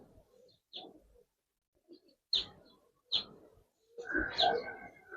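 A Giribaz pigeon gives soft, quiet coos in short separate bursts with silent gaps between them, ending in a longer, fuller cooing phrase.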